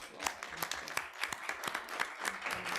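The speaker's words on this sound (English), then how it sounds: "Let's give them all a big round of applause." An audience at a Women's History Month roundtable breaks into applause, a fairly sparse crowd with distinct individual claps standing out in an uneven rhythm, moderately loud and without speech.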